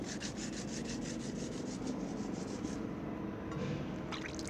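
Steady, close grinding of lemon pickle ingredients on a wet silauto grinding stone, a repeated rough rubbing and scraping stroke that stays soft and continuous, with no voices.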